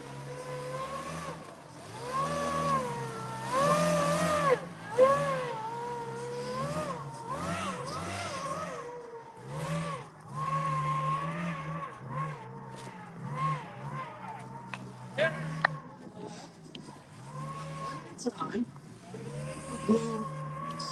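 An extreme rock crawler's supercharged engine revs repeatedly at a rock crawling competition in Reading, rising and falling in loud bursts, with voices heard throughout.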